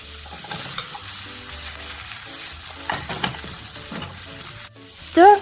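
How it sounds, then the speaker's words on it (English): Vegetables sizzle in hot oil while being stirred, with scraping and tossing sounds over a steady frying hiss. "Stir fry it to about the same doneness as the previous oil-based ingredients"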